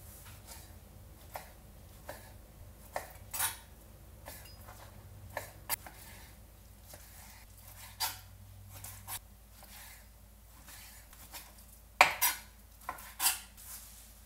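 A knife cuts raw chicken into square pieces on a board while preparing Japanese chicken curry, heard as soft, irregular taps and clicks, quiet and close, with brief silences between cuts.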